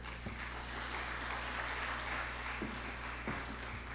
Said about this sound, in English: that applause should be thunderous